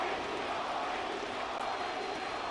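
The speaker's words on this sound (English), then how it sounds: "Crowd chanting Bobby, Bobby." Baseball crowd at a Red Sox game chanting the name Bobby, a dense, steady roar of many voices filling the stadium without a break.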